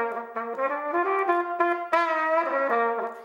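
Close, solo trumpet plays a short tongued phrase with a bend that dips in pitch and returns on the middle G, bright and fairly loud with no voices.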